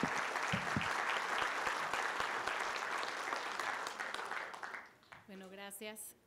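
A panel audience gives sustained applause for the next speaker, dense and even for about five seconds before fading out. A voice follows briefly at the end.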